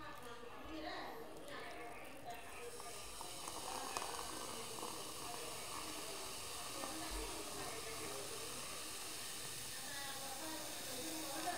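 A Pepsi bottle is opened, and a steady fizzy hiss rises after a few seconds and keeps going, close and soft, during an eating session with curries and fries.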